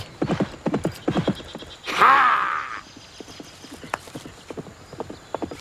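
Racehorse hooves clip-clop in a quick, regular rhythm, with a loud neigh breaking in partway through before the hoofbeats carry on.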